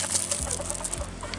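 Chickens at a backyard coop: roosters and hens cluck and call in short, close bursts over a low steady hum, a brief busy stretch of fowl noise with no speech.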